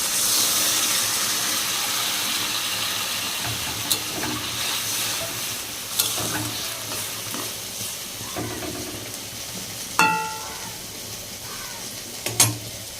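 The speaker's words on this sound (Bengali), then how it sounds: "জল দিয়ে দেবো।" Water poured into a pan of pumpkin-vine shoots cooking with hilsa fish, a steady sizzling hiss with stirring and a few sharp clinks of utensil against pan, close and continuous throughout.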